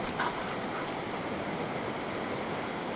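Water in a pot churns at a rolling boil, a dense, steady bubbling hiss that stays even and close throughout, with no voices.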